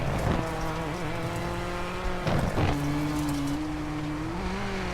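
Rally car in the WRC 7 video game at the Rally of Mexico, its engine droning steadily with rising revs while tires scrub and squeal through a two-wheel drift, loud and continuous throughout.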